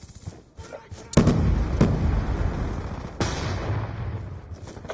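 Grenade blast in the shooter game Black Ops 2, a loud close burst with a rumbling tail followed by a second heavy bang, set among brief game sounds and faint voices.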